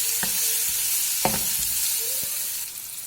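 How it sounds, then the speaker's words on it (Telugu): Baby potatoes fry in a pan with a steady sizzle while a utensil stirs them, producing a few distinct scraping knocks over the continuous hiss. "వేసి మొత్తం కలిపి మళ్ళీ ప్లేట్ పెట్టి ఒక 5 మినిట్స్ ఫ్రై చేయాలి."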